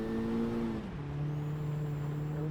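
A 2022 Honda Civic Type R engine drones steadily at moderate volume, its pitch shifting down once as it laps a racetrack, with no talking.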